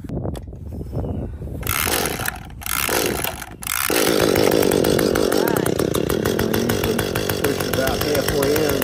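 A gas-powered garden tool is pull-started with the choke out, a few rough pulls and sputters followed by the small engine catching and running in a steady loud buzz near the listener, with talking underneath.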